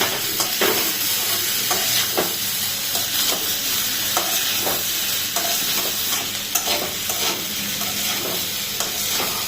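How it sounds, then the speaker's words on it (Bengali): Beef chow mein noodles with carrot, onion, pepper and capsicum stir-fried in a hot pan, a steady loud sizzle with rhythmic scraping strokes of a spatula tossing the mix throughout. "আমরা নুডলস সাথে বিফ, গাজর, পেঁয়াজ, গোলমরিচ এবং ক্যাপসিকাম সব একসাথে মিক্স করতেছি ভালো করে।"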